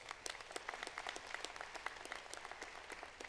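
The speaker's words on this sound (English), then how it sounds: "Please give them a round of applause as well." An audience at a convocation ceremony applauds the staff of an African American academic network. Dense, quick clapping from many hands fills the room evenly and sounds fairly distant and soft.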